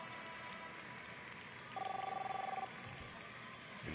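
Phone ringing in the Captain Spirit game, a short buzzing trill lasting under a second amid faint background ambience.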